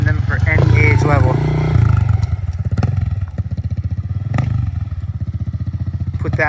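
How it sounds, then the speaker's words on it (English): A 2011 Yamaha TT-R 110 dirt bike, a 110cc thumper, cold-started and running loud and close, its fast single-cylinder putter steady with brief revs, a voice speaking over the start. "even for a 110, the thing is a thumper. It is loud, it is torquey"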